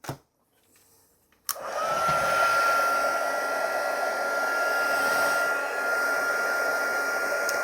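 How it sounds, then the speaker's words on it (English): Heat tool switched on with a click, then a steady close whirring blower with a faint high whine, running continuously while melting embossing powder on vellum laid on a flat surface. "And I am heating it while it's on a flat surface, because vellum especially is prone to warping."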